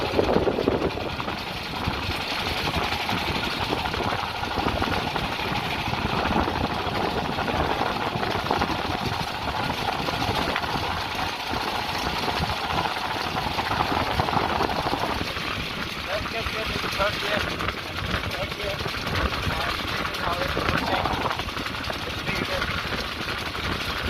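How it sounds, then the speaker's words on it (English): A Honda GX390 generator engine mounted on a dune buggy chugs steadily at low revs, a constant rough mechanical drone that runs throughout while people talk over it. "Okay, you almost killed the engine, man."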